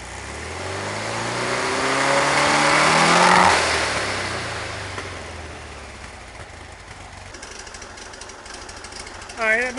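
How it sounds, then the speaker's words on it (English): A 1973 VW Super Beetle with a 1745cc engine runs at a rough, uneven idle with pops, rising and then settling lower as the idle slows, with a brief louder burst near the end. "I've been working on the idle a little bit, and as you can tell, it's slowed down quite a bit."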